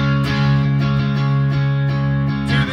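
Distorted electric guitar plays the chorus of a song, steady sustained power chords with a few quick chord changes, loud and continuous with no voices.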